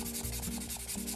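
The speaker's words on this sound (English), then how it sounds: "You have to do this by hand with a sanding paper." A leather edge is sanded by hand with sanding paper, giving a close, continuous scratchy rubbing with quick repeated back-and-forth strokes, alone without speech.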